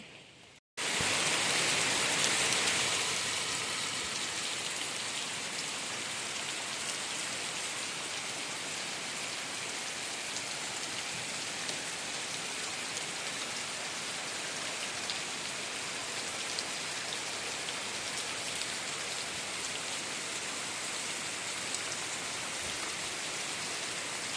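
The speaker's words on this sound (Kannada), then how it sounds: "ಊಟ ಆಗಿದ್ದೆ ಜಾಸ್ತಿ ಮಳೆ ಬೀಳ್ತಾ ಇತ್ತು" Heavy rain pours down at a farm plantation, a loud, unbroken hiss of falling water that starts abruptly and holds steady with no voices.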